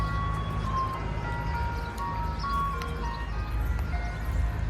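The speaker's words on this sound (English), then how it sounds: "Don't mind the ice cream truck." An ice cream truck plays its tinny electronic jingle as a steady tune in the background of a residential street. The melody sits over a constant low engine rumble, moderately faint and unbroken, with no talking.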